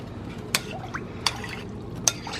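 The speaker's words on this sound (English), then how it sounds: "And we're going to give this a stir." A spoon stirs a pot of wonton soup broth with onions, garlic and ginger, with three soft scraping clinks against the pot over a low, steady kitchen background.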